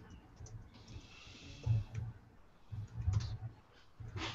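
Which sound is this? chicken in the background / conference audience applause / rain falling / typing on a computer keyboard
typing on a computer keyboard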